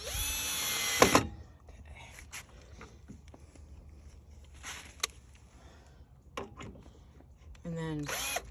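A power drill whirs loudly for about a second, driving long screws, then short clicks and handling noises follow, ending with another brief burst of drilling.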